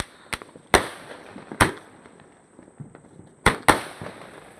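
Fireworks burst outdoors in a series of sharp, loud cracks, a few spaced apart with two close pairs, each decaying quickly into quiet background.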